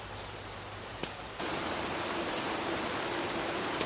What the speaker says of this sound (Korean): 이게 비닐하우스 터널이라 빗소리가 좀 요란하게 들리네요.